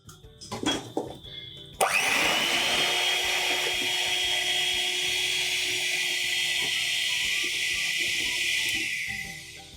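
An electric hand mixer beats powdered sugar for a black forest cake: a few short taps and bumps, then a loud, close, steady high whine holds for about eight seconds before easing off.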